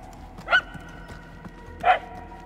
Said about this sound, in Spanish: Al menos los ladridos suenan más fuertes.